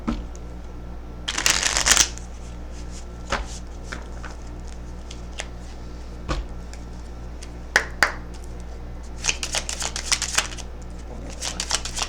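Playing cards are riffled and shuffled close up, with sharp flurries of flicking and soft taps over a steady low hum.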